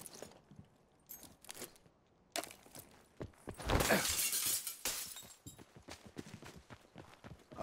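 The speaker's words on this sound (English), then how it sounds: "I'm being loud and breaking some glass real quick" Glass shattering in the shooter game Black Ops 4, a loud crashing burst with a bright spray of shards near the middle, among scattered thumps and footsteps.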